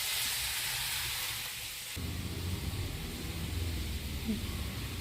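Pork fry sautés in a pan on a gas stove, Alappuzha style, giving a steady close hiss and sizzle that grows fuller after a couple of seconds.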